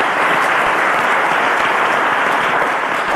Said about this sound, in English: Ladies and gentlemen, a round of applause for Blessing.